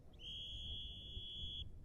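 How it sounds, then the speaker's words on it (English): An umpire's whistle at a polo match at the Cowdray Gold Cup gives one clear, sustained high blast lasting well over a second, over low outdoor wind rumble. "That is a loud whistle in the wind for a free change."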